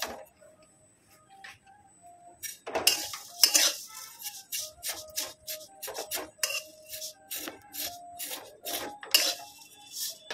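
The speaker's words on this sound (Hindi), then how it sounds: "देखिए गैस पे हम कढ़ाई चढ़ा दिए हैं और अब इसमें सेवई डाल रहे हैं" Dry vermicelli (sewai) roasting in a kadhai without ghee, stirred with a spoon, giving repeated scraping and clinking strikes against the metal pan in irregular bursts, close and fairly clear.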